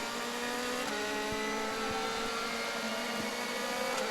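A DTM race car engine at Lausitzring on a flying qualifying lap, a loud continuous high-revving drone that holds steady with slight pitch shifts, heard without talking.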